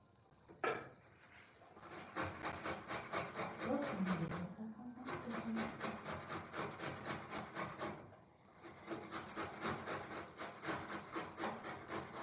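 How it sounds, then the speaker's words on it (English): Fresh tomatoes rubbed against a box grater in a home kitchen during dinner prep, a steady run of rapid rasping strokes, close and fairly loud, with two short pauses. "So I always like to grate my tomatoes"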